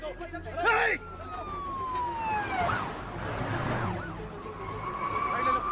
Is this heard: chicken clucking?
no